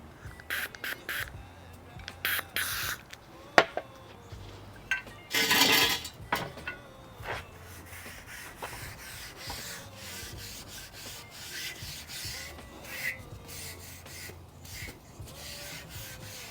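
Sprayway stainless steel cleaner is sprayed in one short hiss and wiped across a stainless surface. Scattered close rubbing and squeaking strokes come before and after the spray, fairly quiet overall.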